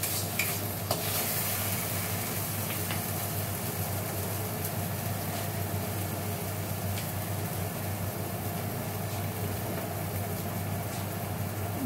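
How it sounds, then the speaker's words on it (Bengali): Fenugreek greens and brinjal fry together in a pan, giving a constant close sizzling hiss that holds steady for the whole stretch over a low background hum. "মেথি শাক ভাজা হচ্ছে বেগুন দিয়ে"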